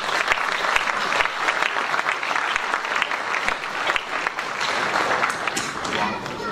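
An audience at a municipal ceremony applauds the children's and municipal council members, dense sustained clapping filling the room at close range with a faint murmur of voices mixed in.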